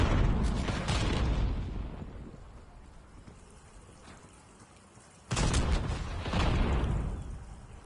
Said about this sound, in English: Semtex incoming.